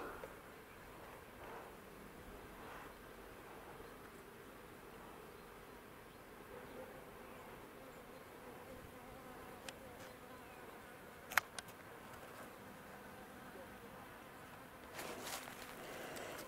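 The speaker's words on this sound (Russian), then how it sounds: "И пчелка уже летает." A spring bee buzzes faintly in a quiet outdoor setting, a soft, thin hum in the background with a few brief clicks and rustles, and no talking.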